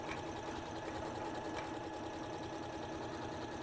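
An electric sewing machine stitching after being started by its button, whirring in a fast, steady mechanical rhythm, close and continuous with no voices.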